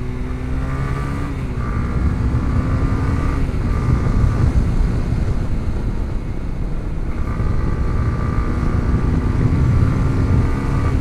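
A Honda CB150X motorcycle ridden along a mountain road, its engine droning steadily with shifting pitch as it climbs and changes speed, loud and close under heavy wind buffeting.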